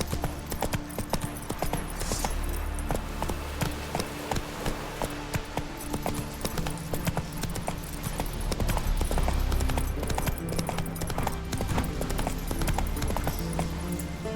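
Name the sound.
horse Roach hooves clip-clopping in Witcher 3 video game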